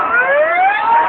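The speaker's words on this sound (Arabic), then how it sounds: "بص على الاسعاف" An ambulance siren wails in Tahrir Square, rising and falling tones carrying steadily and fairly loud through the brief moment, with no talk over it.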